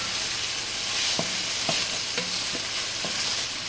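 Chopped vegetables sauté in a pan with a constant hiss, broken by several spaced taps and scrapes of a spoon stirring through them.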